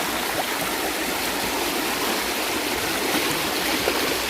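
A forest stream flows in a steady, close rushing wash of water with no breaks, heard alone.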